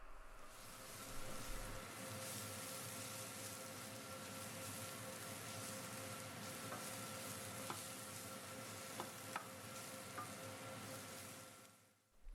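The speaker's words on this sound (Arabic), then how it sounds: "نضيفها فوق الخليط ونظل نقلب بيها لحد ما تنحمز ويا الخضرة" Spice mixture of cumin and white pepper stirred with vegetables for a cauliflower dish in a frying pan, a faint continuous sizzle with soft scraping and a few light clinks, no voices.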